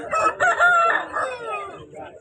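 A rooster gives one clear, fairly close crow at a fighting cock market in Punganur. The drawn-out call lasts about two seconds against a quiet background.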